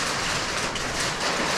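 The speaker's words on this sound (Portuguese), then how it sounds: "parece que tá caindo pedra" Hail falling in a dense, steady hiss of pelting stones, loud and continuous with no pauses and no voices.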